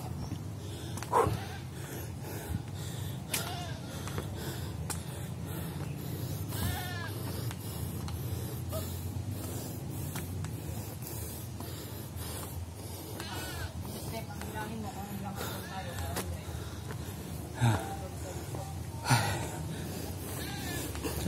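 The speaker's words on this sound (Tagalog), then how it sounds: "Kambing." Goats bleat a few times in the open along a steep hillside stairway climb to a grotto in Tanay, Rizal, brief calls rising over steady footsteps, wind and the chatter of people talking.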